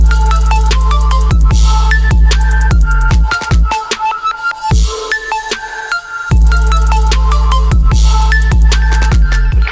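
Trap music track hitting its first drop: heavy sub bass and punchy drums under bright synth melody, loud and dense, with a brief thinned-out break midway before the full beat returns.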